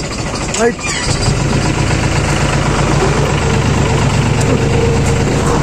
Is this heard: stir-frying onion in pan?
no